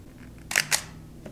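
The shutter of a Mamiya ZE-X 35mm film SLR camera fires at 1/8 second, giving two sharp, close mechanical clacks a brief moment apart in a quiet room.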